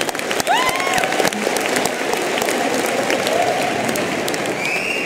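A crowd at a 2015 high school graduation claps steadily and loudly throughout, with a few whoops and cheers rising over the applause.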